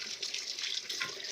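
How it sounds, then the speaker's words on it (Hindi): Water sprayed onto a Hero motorbike during a home service wash, a brief steady hissing spray close to the microphone with no talk. "ये आप देख सकते हैं मैं इसको पानी मार रहा हूँ।"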